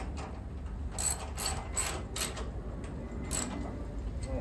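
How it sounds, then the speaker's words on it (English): Ratchet tightening three bolts back up on a Forest Master FM8DD wood chipper, giving several short bursts of rapid pawl clicking close by over a low steady background hum. "and then you just tighten them 3 bolts back up"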